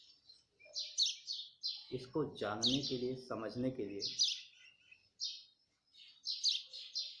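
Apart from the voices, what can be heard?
birds chirping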